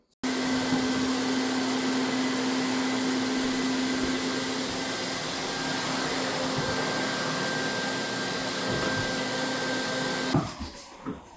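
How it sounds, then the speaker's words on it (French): A vacuum cleaner drones steadily and loudly up close for several seconds with a constant whine, then cuts off with a few clunks at the end. "ça fait un peu de bruit avec la balayeuse"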